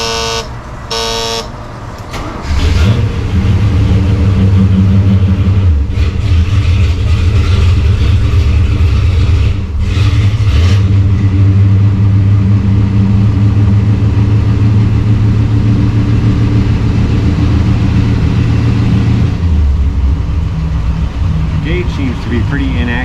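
A 454 big block marine port engine starts after a brief horn-like toot and then runs steadily with a loud, even low rumble for most of the stretch before dropping off near the end.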